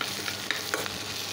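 Fish oil chorchori with fish roe and eggplant sizzles in a pan while being stirred, a close, steady crackle with a few sharp scraping clicks from the spatula.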